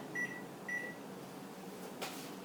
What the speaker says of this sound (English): Our timer has gone off.